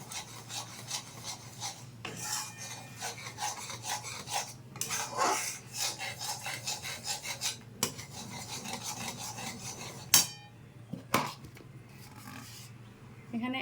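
Powdered milk being stirred into boiled milk in a pot for chanar malai sandesh, a steady scraping and rubbing of a spoon against the vessel, close and continuous, with a couple of sharper knocks near the end.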